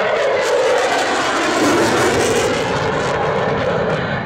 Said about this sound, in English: Into a 7G turn. You will see the Eurofighter